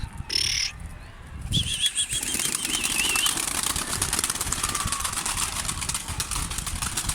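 A burst of wing flapping as pigeons take off, followed by a steady whirring flutter with a faint whistle against outdoor noise.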